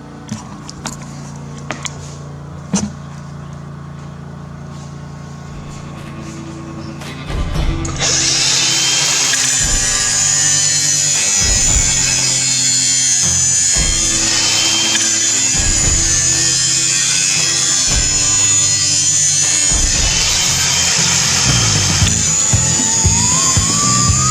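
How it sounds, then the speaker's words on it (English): A grinder starts after a few quiet seconds and whines continuously and loudly, its pitch dipping repeatedly as lawn mower blades are pressed against it for sharpening, with faint clanks beforehand. "We're just trying to sharpen some lawnmower blades."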